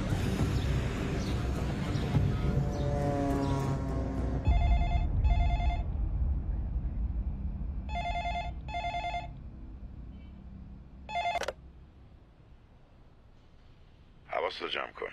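A telephone rings in repeated electronic double bursts in a scene from an Iranian police drama series, heard after a stretch of voices talking and ending in a short final ring.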